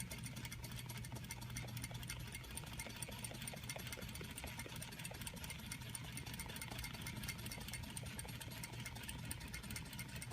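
Sewing machine stay stitching a neckline, a close, steady mechanical whir with rapid even ticking that runs continuously.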